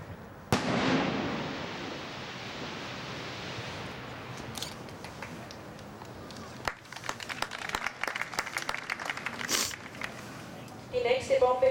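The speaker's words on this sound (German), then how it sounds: "eine chinesische Farfalle, dort genannt die Double Fire Flower" A Chinese farfalle firework shell, the Double Fire Flower, bursts loudly at a fireworks display with a sharp boom, then a long hissing spray fades into clusters of rapid crackling pops, with faint voices of the crowd in the background.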